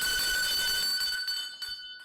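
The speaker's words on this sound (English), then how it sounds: "You ring the bell for the man?" A prize bell rung at a game-show style event rings out in a sustained, bright metallic tone that holds steady, then fades and thins toward the end, with no talk over it.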